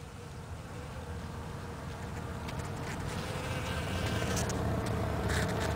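Dense buzzing of many bees working a flying saucer cactus flower outdoors, a continuous close swarm drone that builds slightly louder, with individual bees whining past the microphone now and then.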